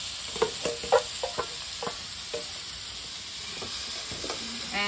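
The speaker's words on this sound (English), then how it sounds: "I hope you can hear the beautiful sound of splattering of these onions." Chopped onions frying and splattering in hot oil in a pan, a steady close sizzle broken by sharp popping crackles, several bunched early and a few scattered later, with no talking.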